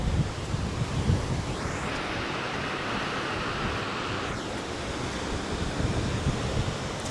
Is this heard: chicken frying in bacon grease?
no